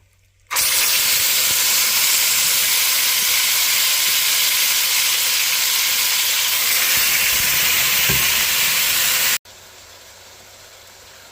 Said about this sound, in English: we're going to let them just cook and sear a little bit on each side